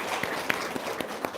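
A few scattered hand claps from an audience at a testimonial event, sparse and moderately close over a steady broadband room noise, with no sustained burst of applause.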